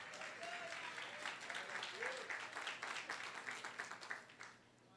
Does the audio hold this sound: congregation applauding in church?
yes